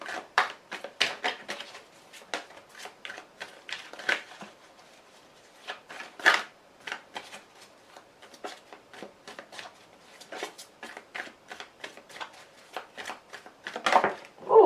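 Tarot cards being shuffled by hand, with a long series of quick, crisp riffling and slapping bursts in an irregular rhythm, close and fairly quiet with nothing else underneath.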